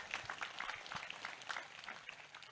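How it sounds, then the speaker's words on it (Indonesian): A faint, distant round of applause rises from an audience at a religious gathering in Aceh Besar, welcoming the deputy regent; the scattered claps hold steady for a few seconds. "Tepuk tangan untuk Pak Wakil Bupati"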